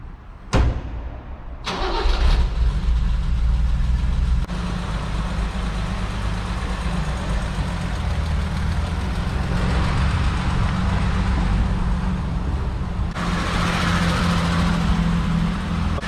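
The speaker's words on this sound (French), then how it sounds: "Donc là on va écouter le son au démarrage." A car's 3.5-litre engine cranks briefly, catches, and settles into a steady, close, loud idle with a slight rise in revs near the end.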